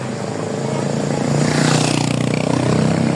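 Vehicles rumble past on a road near a beach resort in Ternate, Cavite, engines swelling louder toward the middle of the stretch, heard close and continuous with faint voices in the background.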